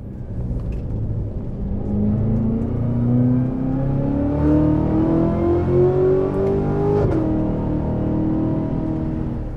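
Engine of a Zagato Isorivolta GTZ, built on a Corvette C7 with its front-mounted engine, revving up through a rising, deep, throaty climb for several seconds, then dropping off, loud and close without talk.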